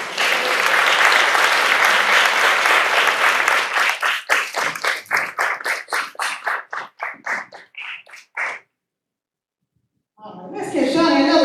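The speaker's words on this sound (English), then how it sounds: "let's give Shawnee another round of applause" Loud audience applause at a talk or speaking event, a dense wash of clapping that thins into scattered individual claps before stopping, then a short burst of sound resumes at the end.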